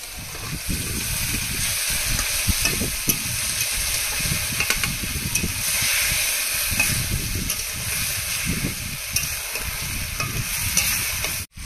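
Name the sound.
fish added to frying spice masala in a pan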